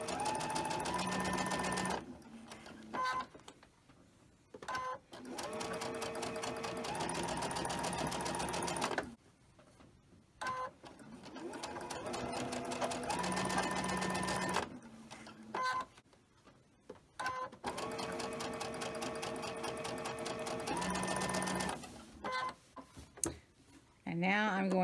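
A sewing machine stitches a quilt block in steady whirring runs broken by short pauses, loud and close, with someone talking quietly over parts of it.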